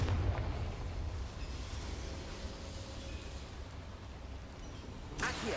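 A Confringo blasting spell goes off in a video game, a sustained loud rumbling roar lasting several seconds with a sharper burst near the end, no voices over it.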